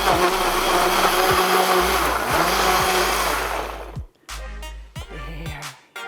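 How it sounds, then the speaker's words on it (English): A blender whirs loudly and steadily while mixing a fruity protein smoothie made with peanut butter and yogurt, then stops and starts again in a few short pulsing bursts. "Okay, blend it all up."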